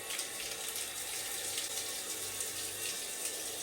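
Water runs in a steady, thin hiss, like a weak shower stream, with no voices.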